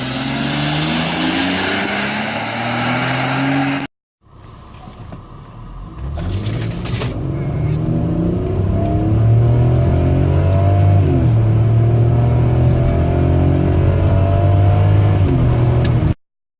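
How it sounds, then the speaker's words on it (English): A 2004 BMW X5 with an 8-cylinder engine revs loudly up close, rising and falling through several strong surges after a brief cut, with a hint of tire noise. "the 2004 BMW X5, which is powered by an 8-cylinder octane-powered engine"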